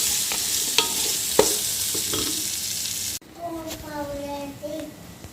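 Onions and curry leaves sautéing in a pan for chicken stew give a steady sizzle with a few sharp stirring clicks, then the frying drops away and a voice speaks.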